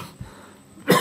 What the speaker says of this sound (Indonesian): Aduh, lagi batuk.